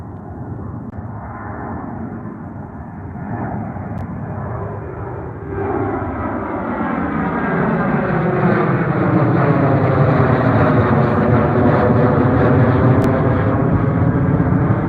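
An airplane takes off at Milwaukee airport, its engine roar building steadily from a distant rumble to a loud, sustained jet sound with shifting tones as it climbs away.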